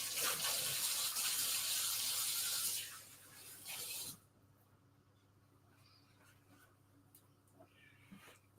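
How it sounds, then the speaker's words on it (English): A kitchen tap runs loudly as hands are rubbed and washed under the stream for about three seconds. The water then stops, leaving a quieter room with faint handling sounds. "I'm just going to give my hands another wash."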